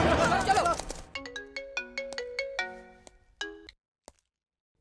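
A phone ringtone chimes on an unanswered call in a Hindi-dubbed South Indian action film, a bright melodic run of tones that follows a brief burst of noise and plays on alone before cutting off.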